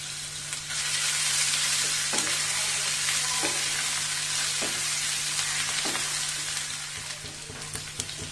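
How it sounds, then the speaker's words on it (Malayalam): Crushed ginger and garlic fry in hot coconut oil, a steady close sizzle with occasional spoon scrapes and taps as the pan is stirred, gradually easing toward the end. "ഇതൊന്ന് ചൂടാവുമ്പോൾ നമുക്ക് ഇതിലേക്ക് 1 ടേബിൾ സ്പൂൺ ഇഞ്ചി വെളുത്തുള്ളി നന്നായി ചതച്ചത് ഇട്ട് കൊടുക്കാം"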